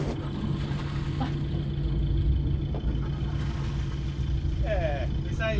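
A sailing boat's engine runs in gear with a steady low droning hum throughout, close and continuous, while people talk quietly over it.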